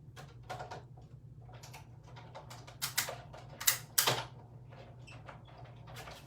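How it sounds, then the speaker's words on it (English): A manual die-cutting machine runs paper through for a sunflower card-making craft, producing quiet rapid ratcheting clicks with a few louder knocks midway, close but faint, with no voices. "I'm going to die cut this."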